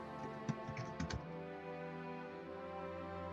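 Typing on a computer keyboard while entering data into an app: a brief burst of soft clicking keystrokes near the start, faint under a steady tonal hum.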